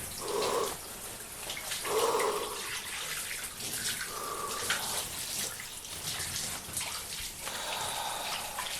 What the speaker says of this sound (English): And now, I'm gonna take a shower.